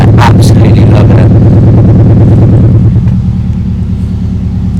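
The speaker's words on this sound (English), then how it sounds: "If I move to the back of the car now, all you can hear is that amazing burble sound" Deep, steady exhaust burble from the rear of a car at idle, a loud low rumble throughout with a brief higher rasp near the start, no talk over it.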